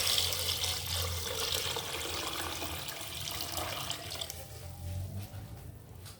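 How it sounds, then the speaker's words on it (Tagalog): Water runs and splashes steadily into a cooking pot for pork sinigang, a continuous rushing pour with a slight hollow ring, easing off toward the end. "ilalagay natin siya ng tubig."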